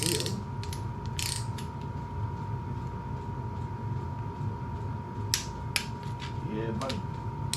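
Torque wrench ratcheting on intake bolts of a Jeep Commander, repeated quick clicking pawl sounds close by over a steady background hum.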